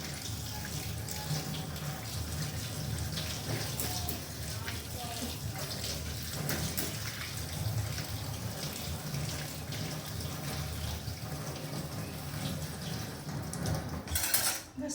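Tap water runs steadily into a kitchen sink while soybeans are washed, with faint clinks of dishes and a voice speaking over the continuous flow.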